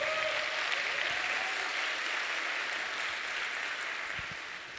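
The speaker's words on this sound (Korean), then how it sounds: "박수 한번 보내주세요." A forum audience applauds steadily for a BBQ group chairman's talk, a dense, even wash of clapping that holds for several seconds and thins slightly toward the end, with no voices over it.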